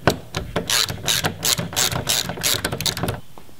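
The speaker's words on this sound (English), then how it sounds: "now we can come in here with the T30 Torx and take the mirror off" A ratchet backs T30 Torx screws out of a Jeep XJ side mirror, giving quick rhythmic bursts of close, crisp clicking that repeat steadily with brief pauses and no talk.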